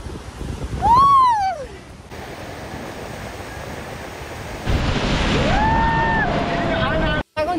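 Wind and sea waves on Mandarmani beach: steady rushing wind noise with a swelling surf wash, and two loud rising-and-falling whistle-like tones cutting through near the start and end.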